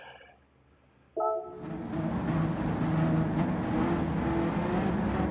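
Race car engine on the Autopolis circuit in a racing video game, starting low, then jumping to a loud, steady high-revving roar that holds without any talk.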